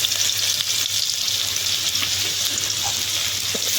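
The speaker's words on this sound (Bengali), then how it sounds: "এই তেলে পেঁয়াজটা দিয়ে দেবো আদা রসুনটাও দিয়ে দেবো" Onion, ginger and garlic frying in oil make a loud, continuous close-up sizzle with steady crackle and faint stirring underneath.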